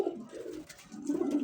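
Pigeons cooing steadily at close range in a cage, soft low throaty calls overlapping in a continuous murmur.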